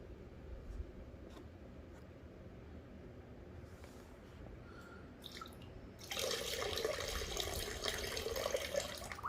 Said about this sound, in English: Give it another little rinse since there was some finer gold in there.